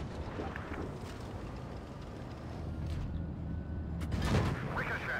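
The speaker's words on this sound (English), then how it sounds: "Ricochet. Interesting bounce." A tank shell glances off armor in World of Tanks Blitz, sharp metallic bursts near the end over a constant rumbling engine and wind-like drone.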